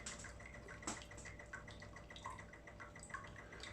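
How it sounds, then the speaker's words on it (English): Water trickles and drips out of a prototype home coffee machine, a faint, steady flow with small splashes and occasional clinks, no talking. "I'm going to turn up the power knob, which I have, and water is now coming out."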